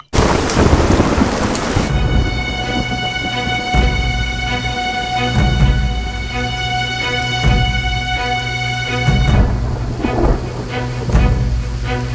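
Loud thunder rolls and rumbles over steady heavy rain, with repeated low booms through the storm and a constant hiss of rainfall throughout.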